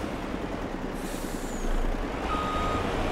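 A heavy truck in the farming game Landwirtschafts-Simulator 22 brakes with a hiss of air, over a low engine rumble, and a high steady reversing-style beep comes in partway through. No voices.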